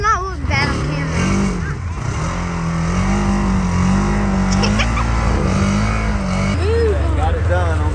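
A 2026 Polaris NorthStar Xpedition UTV engine revs and pulls hard while crossing a ditch, a loud, close, rising and falling drone throughout with voices talking over it.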